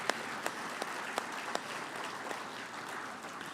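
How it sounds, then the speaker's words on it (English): Brief, fairly quiet applause from a conference audience honouring panelists at an Indigenous resource opportunities conference, with a few sharp individual claps standing out early over the soft, steady clapping. "we should give them one more round of applause"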